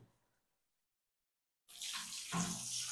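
Water runs steadily from a tap for a dog's bath after a near-silent pause, close and fairly loud, with a brief surge midway.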